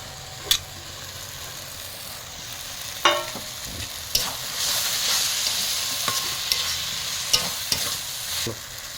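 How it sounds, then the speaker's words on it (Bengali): Masala for a rohu fish curry fries and sizzles steadily in a pan while being stirred, with scraping strokes and a few sharp metallic clinks over the continuous hiss. "এবারে 1-2 মিনিট মশলাটা কষবেন।"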